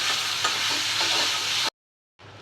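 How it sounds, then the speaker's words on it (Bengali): Fish pieces frying in a pan with turmeric, coriander, dried chillies and salt give a steady, close hissing sizzle. It cuts out abruptly, then returns more faintly. "মাছের টুকরোগুলোও দিয়ে দিচ্ছি একসাথে কষিয়ে নেব মশলার সাথে"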